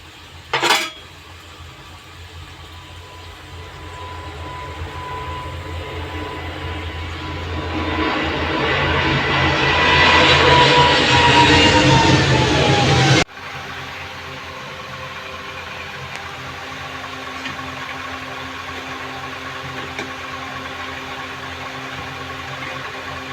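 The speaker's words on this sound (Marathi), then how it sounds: "तेल मस्तपैकी गरम झालेलं आहे आणि आपण हे आता तळायला" Prawn lollipops are lowered into hot oil in a pan, bringing a steady bubbling sizzle that swells louder over several seconds, then drops suddenly to a quieter continuous frying hiss, with no talking.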